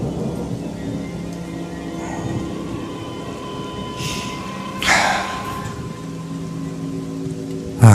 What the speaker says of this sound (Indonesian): Dan hujan pun turun lagi.